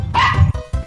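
Yorkshire terrier barking in short bursts, a loud yappy bark followed by a couple of quick clipped yips, close by.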